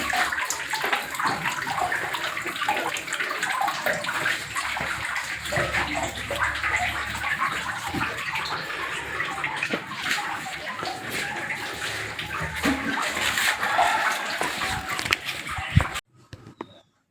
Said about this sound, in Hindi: ये चट्टानों से जल निकल रहा है। ये झरना, गुफा भी बनी हुई।